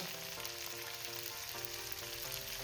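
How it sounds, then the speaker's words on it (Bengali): Crushed garlic fries in hot oil in a pan with potatoes, giving a steady, even sizzle with no talking. "এবার রসুনটা দিয়ে দিলাম"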